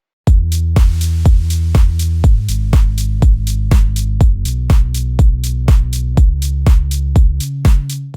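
A loud, deep analog sine-wave synth bass plays a repeating pattern of short sustained notes, each starting with a click, steady and continuous.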